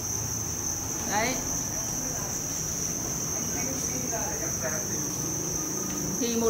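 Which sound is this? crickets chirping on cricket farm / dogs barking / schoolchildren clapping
crickets chirping on cricket farm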